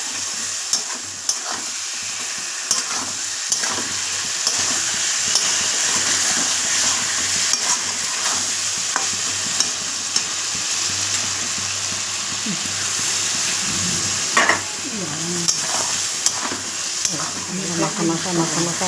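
Pointed gourd (potol) fries in a pan while being stirred, giving a steady loud sizzle with repeated scraping and clinking strokes of the spatula, with occasional speech in the background.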